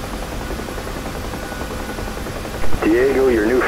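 A UH-1H Huey helicopter in the DCS flight game runs with a steady rotor and turbine drone throughout, close and loud, while a voice speaks briefly over it near the end.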